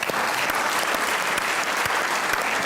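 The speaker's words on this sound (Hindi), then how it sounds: "आपकी भरपूर तालियों में बुलाएंगे" A studio audience on a Pakistani talk show applauds to welcome a guest, a steady, dense wash of clapping that holds evenly throughout, close and fairly loud with no talking over it.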